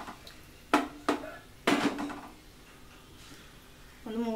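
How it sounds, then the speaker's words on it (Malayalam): A metal lid goes onto a cooking pot of chicken soup with vegetables, giving a few sharp clanks and knocks spaced over several seconds, then quieter handling. "ഒന്ന് മൂടി കൊടുക്കുക."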